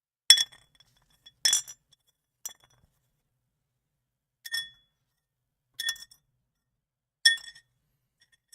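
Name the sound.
quartz rock dropped into a gold pan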